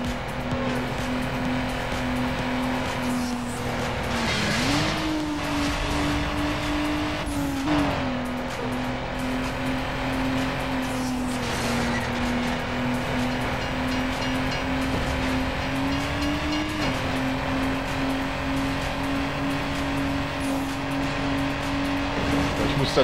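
Race cars in the video game Need for Speed Underground lap the track with a steady loud engine drone that rises and dips as gears shift, plus occasional tire squeal, continuous throughout without talk.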